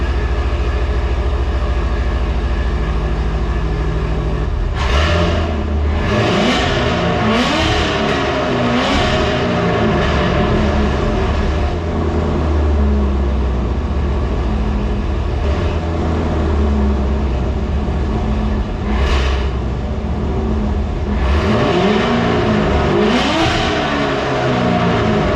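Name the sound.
C7 Corvette engine starting and warming up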